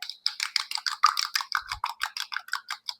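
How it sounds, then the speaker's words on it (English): A whisk beats ingredients in a bowl with a quick, steady run of close, bright clicking strokes, about a dozen in three seconds, and no talking. "So I just like to whisk it together"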